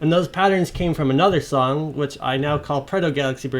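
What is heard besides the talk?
No distinct noise like a dog, phone or traffic.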